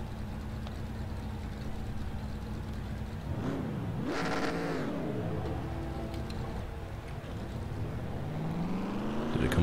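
Race car engines rev in the NR2003 stock car racing game at Daytona. A steady engine drone rises into a sharp swooping rev midway, then climbs again toward the end, with no talk.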